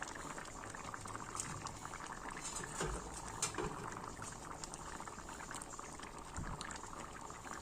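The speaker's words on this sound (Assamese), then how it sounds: "এয়া চাওক ফকফকাই উতলি আছে।" Fish curry with potato and tomato bubbles hard in a pot, a dense and continuous rolling boil with small pops, heard up close but fairly quiet.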